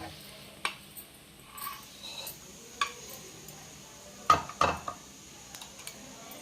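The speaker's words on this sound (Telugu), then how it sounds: "వేరే గిన్నెలో తీసుకుందాం." Scattered scrapes and clinks of a spoon against metal pots as ridge gourd masala curry is transferred into another bowl, with a couple of sharper knocks near the end, heard up close.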